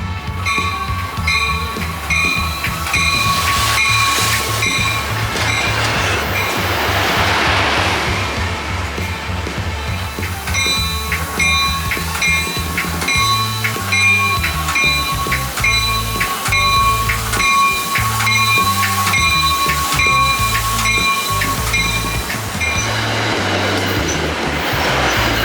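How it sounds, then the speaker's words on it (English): An Amtrak Pacific Surfliner train led by an F40 NPCU cab car rolls past in Southern California, loud and close, with rhythmic wheel clatter over rail joints and sustained rumble throughout. "The first actual train here would be the Pacific Surfliner train, led by F40 NPCU"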